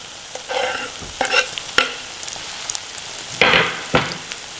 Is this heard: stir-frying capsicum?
yes